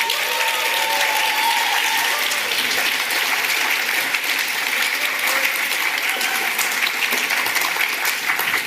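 A conference audience claps loudly and steadily, a dense sustained round of applause filling the whole stretch with a faint murmur of crowd beneath.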